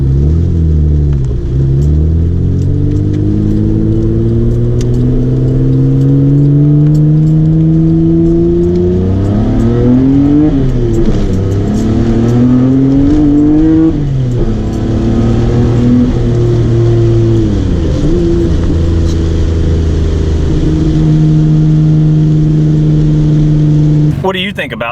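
Nissan R32 GTR engine revving repeatedly, loud and close, pitch climbing and falling in several pulls over a constant rumbling idle, with no voices heard.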